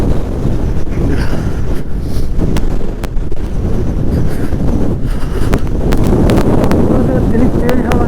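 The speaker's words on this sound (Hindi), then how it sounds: "इतनी तेज हवा है कि मुश्किल है चलना" Strong mountain wind buffets the microphone near a wooden footbridge over the Kali Gandaki river in Mustang, a steady loud roar with gusts throughout, with someone talking over it.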